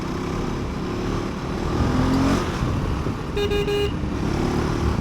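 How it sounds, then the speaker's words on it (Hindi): Busy road traffic with steady engine rumble, a motorcycle passing and a short car horn toot in the middle, heard while riding a KTM 390 Adventure through congested streets. "अभी यहाँ पे थोड़ी सी ट्रैफिक है।"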